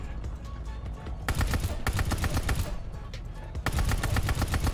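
Rapid bursts of AS44 automatic rifle fire in Call of Duty: Vanguard, two long, loud, close volleys of quick shots separated by a brief lull, set over a rumbling battle background.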